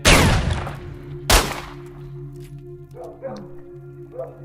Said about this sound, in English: Yeah, nice doggy, nice doggy.